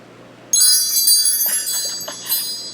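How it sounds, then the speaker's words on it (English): Chimes rung to open a tarot reading start with a sudden bright shimmer of many sustained metallic tones, then ring on and slowly fade, with a few lighter strikes along the way and no voices. "Let's call in spirit with some chime time."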